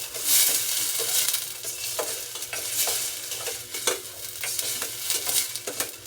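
Ingredients for a basic soup stirred as they fry in a pan, a loud continuous sizzle broken by frequent scraping strokes of a spoon against the pan, close up and with no voices.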